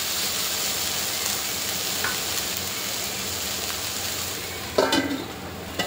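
Onions and tomatoes for prawn masala sauté in a pan with a soft, continuous sizzle. A short burst of spoon-against-pan stirring clatters near the end.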